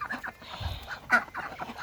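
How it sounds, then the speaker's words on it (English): Ducklings on a muddy farm give a run of small, repeated peeping calls with soft rustling between them, close by and moderately loud. "See my ducklings? Those guys used to be white."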